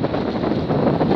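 Strong wind buffets the microphone as water spills over the top of the Barragem do Prata dam in Bonito, Pernambuco, a dense, steady roar with gusting rumble throughout.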